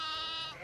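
Sheep bleating on a Romanian flock farm at Căpușu Mare, Cluj, a large herd of ewes, rams and lambs; a single sustained, wavering bleat rings out close and clear, with no talk over it.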